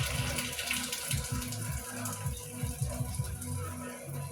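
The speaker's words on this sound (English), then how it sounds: "Notice I got the water running on my sink" Water runs steadily from a sink faucet, a continuous close splashing rush with no talking.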